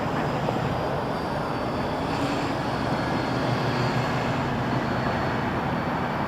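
An airplane at Toronto Pearson Airport roars steadily as a loud broadband engine wash that holds for several seconds, with no voices heard.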